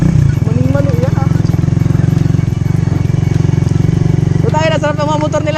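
Enduro motorcycles riding a wet rural trail, a loud close engine chugging in a steady rapid pulse, with another bike revving up near the end and people talking over it.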